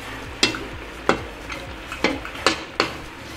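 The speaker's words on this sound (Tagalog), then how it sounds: "Tapos medyo ihihalo lang natin siya para lumambot ang sibuyas." A utensil stirs round-cut onion rings sautéing in a pan for pork bistek, giving about six sharp scraping strokes with a soft sizzle underneath.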